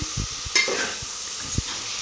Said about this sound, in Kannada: ಈರುಳ್ಳಿನ ಸ್ವಲ್ಪ ಫ್ರೈ ಮಾಡಿದ್ರೆ ಸಾಕು.